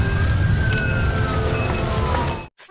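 An ambulance siren at the scene of the Ahmedabad plane crash, a loud wailing tone that slowly falls in pitch over rumbling noise before cutting off abruptly.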